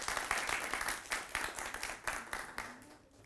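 An audience claps for a guest speaker from iHeartMedia at a radio station launch party, brief steady applause with clustered hand claps that fade out toward the end.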